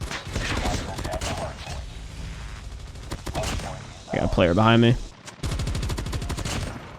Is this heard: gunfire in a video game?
yes